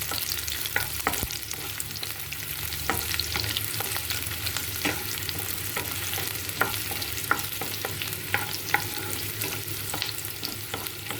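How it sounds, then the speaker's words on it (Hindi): Onions sautéing for kadhai paneer, a steady close sizzle in a pan with frequent scrapes and clicks of stirring throughout, no voices. "हल्का सा अनियन को भूनेंगे।"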